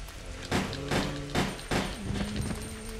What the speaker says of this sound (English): now I'm gonna start shooting my way